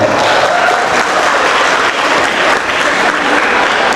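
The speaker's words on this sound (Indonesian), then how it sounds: "Tepuk tangan dulu buat semuanya" Loud, dense applause from a seminar audience at a university economics and business faculty event, a sustained wash of many hands clapping close by for about four seconds.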